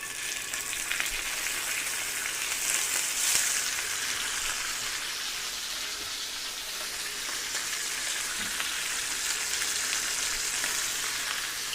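Chicken thighs sizzling hard in olive oil in a hot pan, a steady, loud, crackling hiss that runs without a break and has no voices over it.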